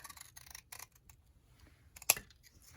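Scissors cutting a paper circle in half for a traveler's notebook craft: a run of light, rapid snips, close and quiet, then one sharp clack of the blades near the end, with no talking.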